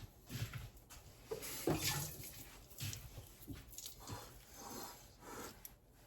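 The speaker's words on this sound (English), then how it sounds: "Just going to wet my hands." Tap water runs steadily as hands are wetted at a kitchen sink while making sourdough baguette dough, a moderate wash of flow with small splashes and shifts as the hands move under the stream.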